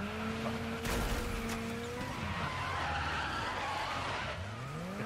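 A car skids across loose ground after a hard handbrake pull in the rally racing game Dirt 5, with engine whine and steady tire scrubbing running loud and continuous throughout.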